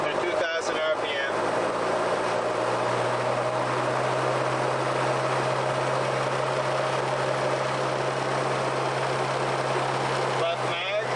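A Beechcraft Musketeer's aircraft engine runs up to 2,000 RPM, producing a loud, steady drone that holds for several seconds close by, and a voice talks over it.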